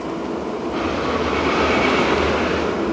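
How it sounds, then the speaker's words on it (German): A train rolls past through the woods, a continuous close rumble with low droning wheel noise that swells slightly midway and stays steady to the end. "da fährt so eine Bahn hier entlang immer"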